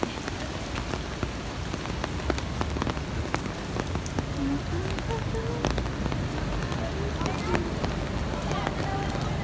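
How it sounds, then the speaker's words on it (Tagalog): Steady rain falls on a surface on a rainy Sunday evening, a dense, continuous patter with scattered distinct drops, close by and fairly loud throughout, with no talking. "Uh-oh, it's raining."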